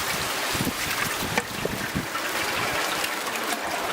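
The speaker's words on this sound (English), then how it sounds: "so I'm just going to start sprinkling it on" Hot sparge water at about 70 degrees sprinkled onto grain in a homebrew basket, a soft continuous trickle and patter with a few faint splashes, close and alone.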